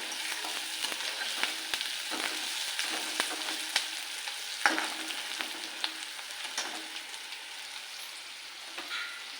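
Chopped onion frying in a pan for a homemade khichdi meal, a steady close sizzle with scattered crackles and pops, occasional sharper spatters standing out, no talking.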